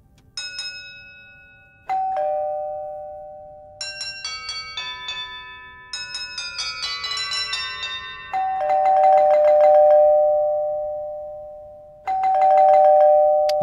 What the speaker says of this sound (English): there is of course two different doorbells with a nicely doorbell sound.